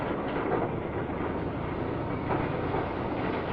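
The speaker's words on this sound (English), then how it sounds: "Following up will be the concreting train, with hopper wagons for cement," A 1965 concreting train made up of cement, sand and aggregate hopper wagons, with a mixing and pouring unit and a power unit, rolls past in a steady, muffled rumble with faint wheel clatter and no break.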